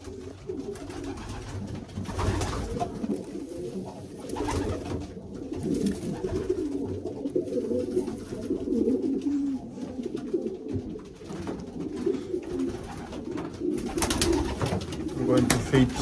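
Racing pigeons coo in a loft, steady low murmuring calls from several birds close by, with a person talking over them at times and occasional rustles and flaps.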